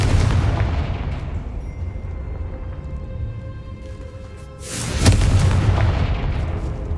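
The Confringo fire-blast spell in the Hogwarts Legacy video game: rumbling explosive booms under a steady low roar, with a sharp, loud blast bursting out about five seconds in and then trailing off.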